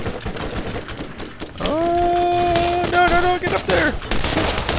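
Gunfire in the video game Borderlands, rapid dense bursts of shots under a steady tonal whine and game effects, loud and close, with someone shouting briefly.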